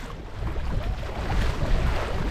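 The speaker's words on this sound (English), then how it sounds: "Pretty high wind, guys" Strong wind roars steadily over open water on New Hogan Lake, a continuous broadband rush buffeting the microphone from a boat, with no voices.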